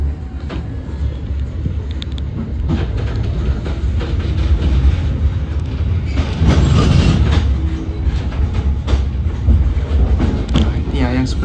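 A Serayu passenger train runs on rails approaching Cikampek station near a track junction, giving a steady loud rumble with rhythmic wheel clatter heard from inside the carriage.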